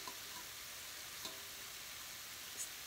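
Onion and chopped cabbage fry in a pan for cabbage rolls, giving a steady, soft broadband sizzle with a couple of faint clicks, all quiet and continuous with no talking.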